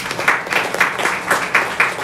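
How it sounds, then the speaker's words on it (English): Graduation ceremony audience applauding, an even, pulsing patter of clapping that stays steady throughout at moderate loudness, with no talk. "So a round of applause."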